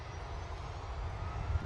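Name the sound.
Jet2 airliner departing Manchester Airport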